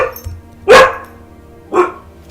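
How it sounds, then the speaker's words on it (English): Two loud, close dog barks about a second apart, sharp and abrupt, with quiet room sound between them. "Sorry about my dogs."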